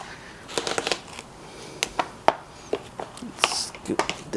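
A knife cutting straight down through a watermelon, a series of close, sharp crunching and slicing clicks at an uneven pace, with faint background noise between the cuts.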